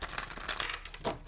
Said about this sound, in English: Let me get a few cards here and shuffle.